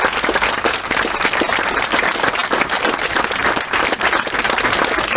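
An audience applauds a Holocaust survivor, with dense, sustained clapping from a large crowd that stays loud and even throughout.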